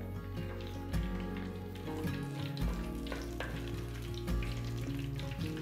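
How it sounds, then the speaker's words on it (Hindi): Two green chillies frying in hot oil for Chettinad biryani, a close, continuous crackling sizzle with stir-scrapes and low thuds, no talk over it. "थोड़ा चिली फ्राई होना"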